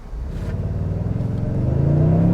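A 2022 Toyota Tundra Limited pickup truck accelerates hard, its engine note climbing steadily in pitch and loudness as a close, continuous roar.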